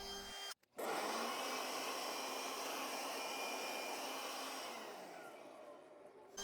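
A router with a profile bit carving a wooden board, giving a loud, continuous high whine and hiss after a short start, easing slightly toward the end; no speech.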